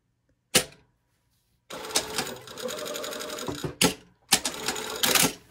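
A sewing machine stitches a tight seam on a garment's body and collar: one short burst, a pause, then a long steady run broken by quick stops and restarts, close and clear with no voices.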